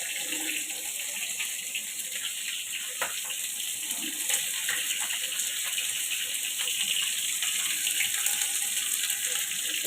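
Nigella seeds hitting hot oil as a tempering for a fish kalia, giving a steady, bright hissing sizzle with faint crackles throughout.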